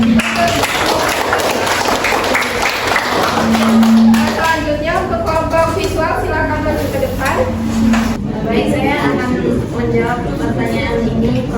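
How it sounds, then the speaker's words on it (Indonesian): Pupils clap together in an Indonesian primary school classroom, a sustained burst of applause mixed with voices and a few tapping knocks over several seconds. "Beri aplaus."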